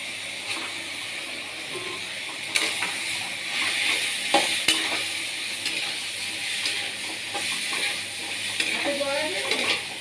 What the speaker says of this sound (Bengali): এবারে সেদ্ধ করা পাস্তাটা দিয়ে দেবো